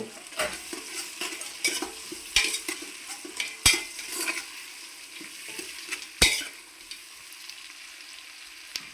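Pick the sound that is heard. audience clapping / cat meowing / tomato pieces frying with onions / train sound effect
tomato pieces frying with onions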